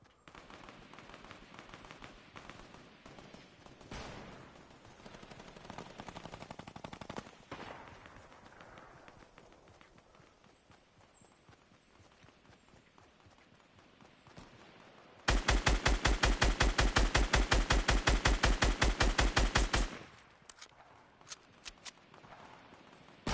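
Fortnite gunfire during a 50 vs 50 match: scattered shots and rapid rattling bursts throughout, swelling into a loud, dense automatic volley for several seconds near the end, followed by a few isolated shots.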